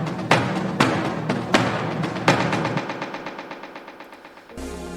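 Orchestral sample heavily EQ'd with delay in an Afro-melodic house production at 140 BPM, sharp accented hits repeating in a steady rhythm with echoing tails that gradually thin out, ending in a brief low rumbling swell.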